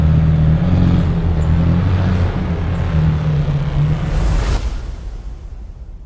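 A 789bhp 2019 McLaren Senna track car drives past with a loud, low engine drone and tonal hum, swelling briefly before the sound falls away as the car moves off.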